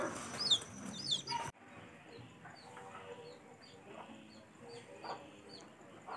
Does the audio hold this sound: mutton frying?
no